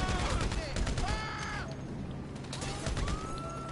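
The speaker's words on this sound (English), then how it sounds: "Now let's just shoot some cops up." Gunfire in the Grand Theft Auto V video game crackles in quick bursts of shots at moderate volume, with game sirens and other effects mixed in.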